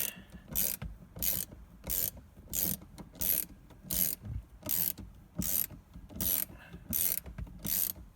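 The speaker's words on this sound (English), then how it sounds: "now we're going to remove the 4 10mm hex bolts down here" A hand ratchet backs out 10mm hex bolts from a ZL1 Camaro shifter, giving a regular series of about a dozen short clicking bursts, close up and quiet, with no talking.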